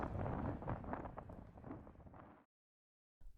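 Wind gusting across an exposed seawall on the Norwegian coast, a broad steady rushing roar buffeting the microphone for a couple of seconds before cutting out to near silence.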